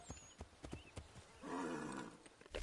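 In the video game Assassin's Creed 3, scattered hoofbeat clicks, then a horse gives a loud, drawn-out neigh, followed by a snort.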